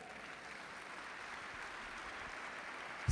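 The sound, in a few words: congregation applauding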